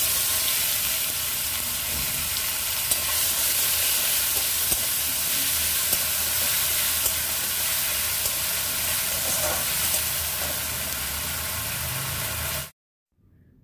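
A paste of ginger, garlic, onion and green chili sizzles steadily in hot oil, a loud continuous hiss close by with a few faint stirring clicks, cutting off abruptly at the end.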